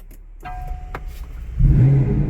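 A McLaren GT engine starts: a few chimes and clicks from the cabin, then the engine fires and settles into a loud, deep idle rumble close by.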